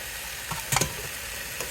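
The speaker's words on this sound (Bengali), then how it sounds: "মশলাটা এখন কষানো প্রায় একদম শেষ" Spice paste (masala) frying in a pan, a soft steady sizzle broken by a couple of quick stirring clanks, no talking.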